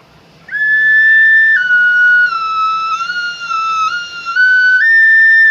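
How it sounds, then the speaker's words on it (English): A small 6-hole ocarina plays a clear, steady whistling tone close up, stepping through a few held notes with no talking. "My God, it's even a 6-hole ocarina."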